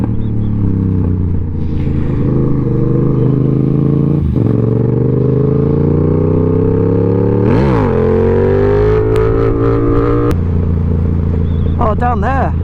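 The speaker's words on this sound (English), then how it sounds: "Third gear just picks the bike up." A Yamaha MT-07 motorcycle pulling hard in third gear, a loud continuous engine drone rising in pitch with brief shifts in tone, wind rumble throughout and a rider's voice over the top.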